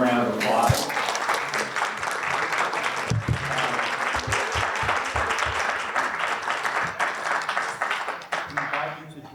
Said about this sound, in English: let's conclude here by giving our panelists a warm round of applause